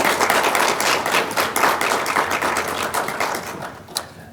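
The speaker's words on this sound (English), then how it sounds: "let's have a round of applause for Kai MATTINAS." Audience applause at a college scholarship ceremony, a dense steady wash of many hands clapping that carries through the whole stretch and thins slightly toward the end.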